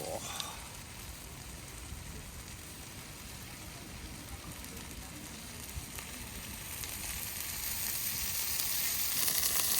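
Split sausages fry cut side down on a hot plate, giving a steady, soft crackling sizzle that swells slightly toward the end, with no talking.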